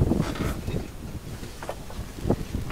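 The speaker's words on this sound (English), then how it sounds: "the wind's rushing out, and that's the other hole is over there" Wind rushing out of a coastal blowhole set among spinifex scrub, heard as a steady, loud, buffeting roar with rumbling gusts and no voices.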